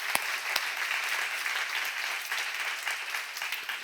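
Church seminar audience clapping steadily, a dense, even patter of many hands with a few sharper claps standing out, sustained throughout at moderate level.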